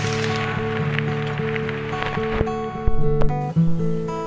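Rain falls steadily during a hike on Mount Buthak via the Panderman route, a dense broadband hiss with sustained tonal sounds layered over it and a few sharper bursts near the end, with no talk.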